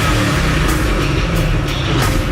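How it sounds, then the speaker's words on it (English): A 650-horsepower Ford Mustang GT500 V8 roars steadily and loudly up close, a dense, continuous engine rumble with exhaust burble and no pauses, heard alone without voices. "That big, mean-sounding V8 roar."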